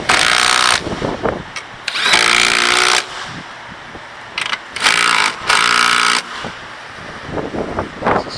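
An impact gun runs down strut nuts on a Toyota Camry in loud, rattling bursts of a second or so, separated by pauses filled with clinks and shop noise.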